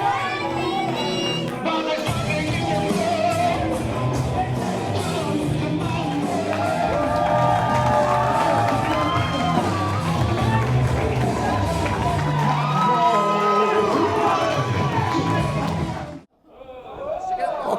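A wrestling crowd at a Crossbody Pro Wrestling event cheers and chatters loudly and steadily for about sixteen seconds, then drops off abruptly near the end.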